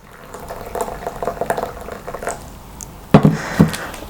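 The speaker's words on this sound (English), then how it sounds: "dilute it with boiling water." Boiling water pours and bubbles steadily with a soft, busy gurgle onto citric acid in a bowl, then two louder clunks near the end, like a kettle or bowl being set down.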